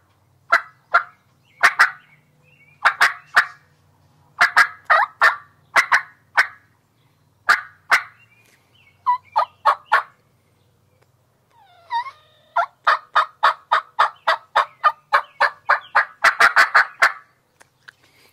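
A hand-operated turkey call imitates a gobbler, running through loud, close series of yelps and sharp clucks, then a long accelerating string of notes, with short pauses between sequences.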